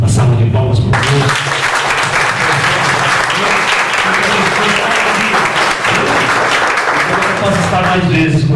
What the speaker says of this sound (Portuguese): Uma salva de palmas para Deus.